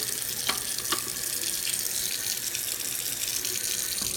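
A water tap runs steadily into a sink in a home where tile has been replaced for plumbing access, a continuous close hiss of flowing water with a couple of faint clicks and no talking.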